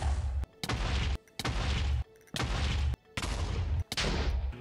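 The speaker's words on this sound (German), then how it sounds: "Okay, das waren jetzt ein paar Explosionen." Several explosions from beds being used in hardcore Minecraft, about five loud blasts in quick succession, each a broad noisy burst separated by brief near-silent gaps.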